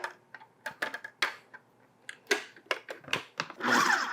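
A food processor pulsing minced canned chicken, heard as short, sharp clicks and whirs in a quick irregular series, ending in a longer buzzing run of the blades.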